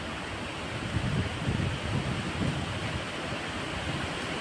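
Strong wind roars in a steady broadband rush with gusty swells through a sudden monsoon rainstorm, loud and continuous with no talk.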